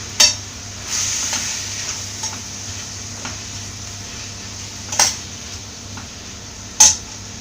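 Green tomato stir fry with turmeric being stirred in a pan: a low, faint sizzle runs under three sharp, bright clinks of a spoon against the pan, spaced a few seconds apart and heard close.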